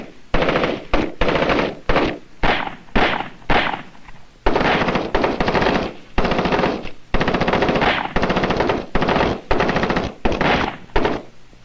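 Bursts of machine gun fire from captured enemy weapons during a weapons familiarization session, loud, close and rapid, in repeated strings of rattling shots separated by brief pauses.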